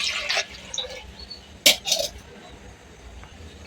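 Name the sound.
water poured into a pot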